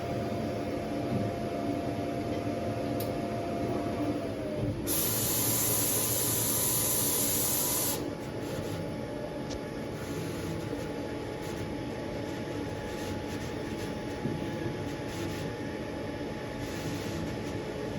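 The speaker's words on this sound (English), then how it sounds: "It's done printing, so now it's going to backtrack." A print-and-cut machine runs steadily as its carriage backtracks after printing, giving a continuous mechanical whir with a brief louder, hissier stretch partway through, close and alone.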